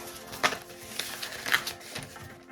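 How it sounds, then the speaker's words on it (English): A Cricut paper trimmer slices a straight line through decal vinyl, giving a few brief, crisp scraping strokes spaced about half a second apart over a quiet background. "Then I'm gonna use my Cricut cutter."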